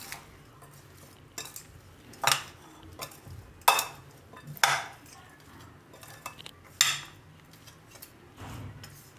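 Spoon scraping and clinking in a bowl while garlic and raw mango pickle ingredients are mixed, several sharp bursts of stirring spaced irregularly over quieter pauses, close and distinct.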